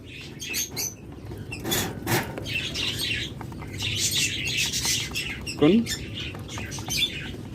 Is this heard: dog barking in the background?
no